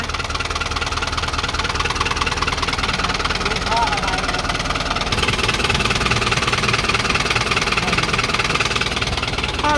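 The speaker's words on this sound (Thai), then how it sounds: "ตัวนี้มันเป็นพวกเครื่องยนต์สี่สูบเนาะ" A 2013 New Holland TT75 four-cylinder tractor engine idles steadily and close by, a constant low rumble with faint knocking throughout, while someone talks over it.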